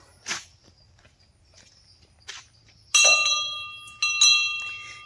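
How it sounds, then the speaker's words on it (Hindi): A metal bell hanging at an ashram in India rings twice with bright, sustained tones after a few soft footsteps and scuffs; each strike lingers and fades. "यहाँ एक घंटी लगी है"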